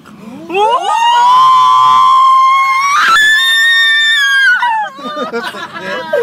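On a safari ride, a woman's long, loud, sustained scream rises sharply and holds for several seconds before breaking off into excited chatter and shouting from the group.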